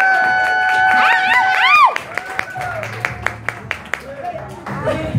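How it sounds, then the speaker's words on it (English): Audience at a live Eats, Beats & Jazz performance night in Houston clapping, with a held vocal tone fading as a run of sharp, evenly spaced claps rises over a murmuring, cheering crowd. "Y'all better clap for that like you did."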